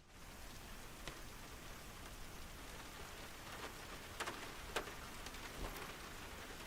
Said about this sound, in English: I love hearing the rain hitting the aircraft as well.